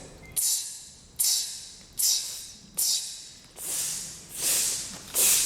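A beatboxing flutist breathes short, airy hiss bursts through the flute to imitate a closed hi-hat, seven repeated in a steady pulse, close and fairly crisp.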